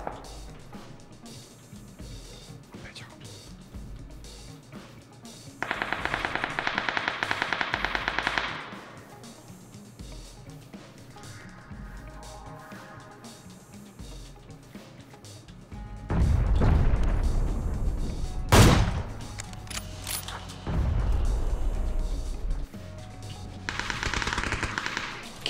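Automatic gunfire in the battle royale game PUBG (Battlegrounds): several loud, sustained bursts separated by quieter stretches, with one sharp, heavy shot near the middle.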